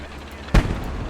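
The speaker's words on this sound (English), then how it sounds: "Incoming mortar. That's an incoming mortar." An incoming mortar explosion in the Blood Red Snow video game, a single short, heavy blast with a deep low thump that fades into a rumbling tail.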